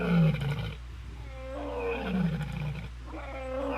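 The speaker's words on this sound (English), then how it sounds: "You can call, which is a lion call actually. A lot of people do not realize that lions sound in this way" A Second Life lion avatar lets out a deep roaring call, a single loud sustained roar with rising and falling moans close up, no talking over it.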